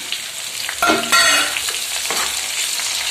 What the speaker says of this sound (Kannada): ಈರುಳ್ಳಿ ಥರ ಕಲರ್ ಚೇಂಜ್ ಆಗೋದನ್ನ ನಾವು ಹೆಚ್ಚಿಟ್ಕೊಂಡಿರೋ ಟೊಮಟ ಹಣ್ಣನ್ನು ಸೇರಿಸ್ತಾ ಇದ್ದೀವಿ